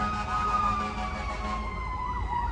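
Emergency vehicle sirens wail outdoors, wavering up and down steadily over a low traffic rumble, moderately loud and somewhat distant.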